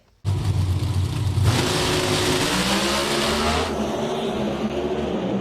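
Pro Stock drag racing cars at an NHRA finals run, engines roaring loudly and continuously near the track, rising in pitch as the cars launch and accelerate away.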